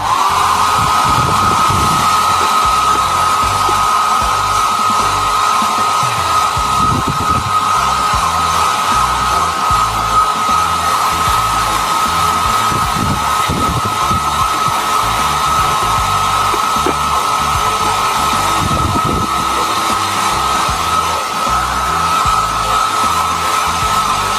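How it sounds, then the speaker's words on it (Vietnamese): A hair dryer blows steadily and loudly over Bluetooth earbuds, a continuous close whooshing hum with a constant whine and no talking. "Các bạn dùng máy sấy tóc để sấy các bạn nhé."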